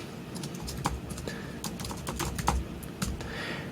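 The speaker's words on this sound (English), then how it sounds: "Then you would type in their name" Someone types a name into a swim club's web form on a computer keyboard, producing a quick steady run of close, distinct key clicks over faint room noise.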